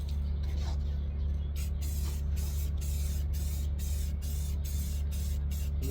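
Rattle can spraying basic white enamel paint onto a 1987 C10 truck for a patina paint job, a steady, close aerosol hiss that runs throughout with slight pulsing as the nozzle sweeps.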